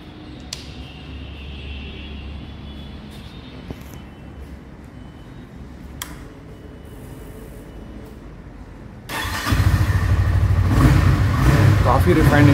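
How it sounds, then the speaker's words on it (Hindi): A Honda CB300F motorcycle sits quietly at first with faint clicks, then its engine starts and runs with a loud, steady exhaust rumble and light revving. "तो आइए इसको स्टार्ट करके देख लेते हैं एक बार।"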